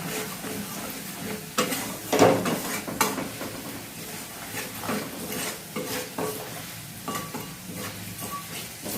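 Spice paste frying in hot oil in a pan sizzles under stirring, with utensils scraping and knocking against the cookware close by; a continuous moderate hiss with irregular clatters and no speech.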